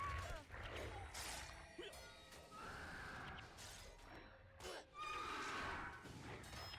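Horses neigh and whinny repeatedly in the Guild Wars video game, with several loud, shrill calls over clattering in-game action and a brief crash.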